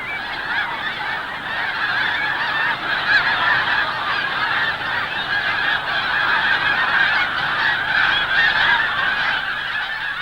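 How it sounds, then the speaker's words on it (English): A large flock of snow geese honks continuously as the birds glide down to land on a grain field, a dense, steady chorus of overlapping calls that stays loud throughout. "the geese start to plane in."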